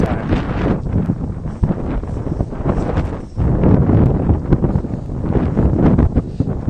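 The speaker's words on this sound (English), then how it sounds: "Ooh, windy time." Strong wind on the Peak in Hong Kong buffets the microphone, a loud, gusty rumble that surges and dips without letup.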